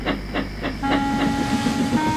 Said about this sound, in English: She just puffed out of the station, blowing her whistle quietly.